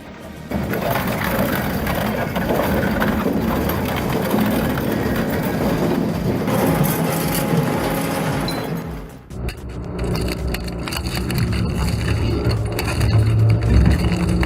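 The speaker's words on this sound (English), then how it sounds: "Engines collapse, bolts shear, steel twists into powder." An industrial crusher grinds a truck with its engine and steel, a loud, dense, continuous mechanical roar with clanking and grinding, briefly dipping before resuming with heavy metallic crunching.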